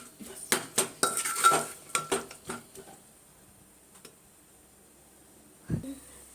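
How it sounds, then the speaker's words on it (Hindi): A spoon clanks and scrapes in a pan as soaked kidney beans are stirred and roasted in spice masala, with a burst of rapid metallic strikes, then near silence and one dull knock. "और इनको जो है मसाले में मैं 2 मिनट के लिए भून लूंगी।"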